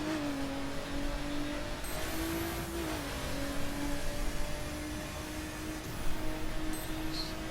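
A Nissan GT-R R35 roars through a one-mile drag race on the Bonneville Salt Flats in The Crew, its engine a steady, loud, sustained drone with a brief pitch dip midway, heard alone without talk.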